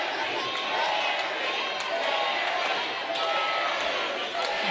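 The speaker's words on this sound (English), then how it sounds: "The fans are cheering him on." A wrestling arena crowd at an SICW All-Star Wrestling show keeps up a loud, continuous roar of cheering, with broadcast commentary talking over it throughout.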